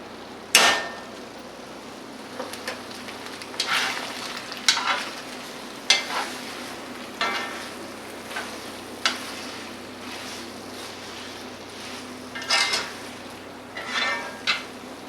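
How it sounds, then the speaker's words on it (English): Cheesy garlic bread frying in butter in a pan, a soft steady sizzle broken by sharp, loud clanks and scrapes of a utensil turning the bread at irregular intervals. "You want to get every side of it fried and hot."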